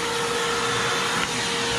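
Bauer 6 gallon shop vacuum running close by, a loud, steady whining roar with a constant high tone and no variation.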